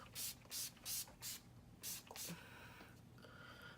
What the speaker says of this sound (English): all we need is a little setting spray